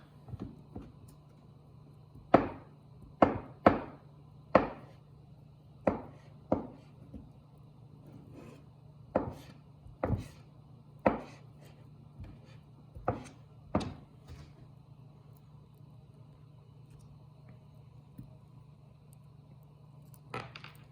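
Knife chopping half a stick of butter into cubes on a cutting board: a series of crisp, separate taps in an uneven rhythm, close and fairly quiet over a low steady hum, with no talking.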